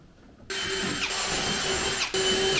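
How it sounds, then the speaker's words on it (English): A power drill whirs steadily close by while fitting fender flares to a 2022 Polaris General XP 1000, its pitch dipping briefly mid-run before revving back up, with no voices. "don't drill through the taillight."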